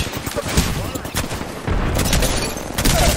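Apex Legends gunfire in rapid bursts and dense fusillades with booming impacts, loud and continuous, with a player's voice mixed in over the shooting.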